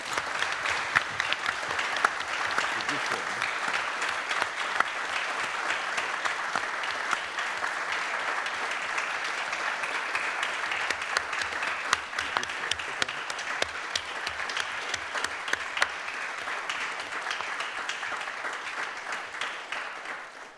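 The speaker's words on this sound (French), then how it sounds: "Je vous propose un tonnerre d'applaudissements" Sustained audience applause during official speeches at a hospital-sector conference, a dense, even roar of many hands clapping for about twenty seconds before fading at the end.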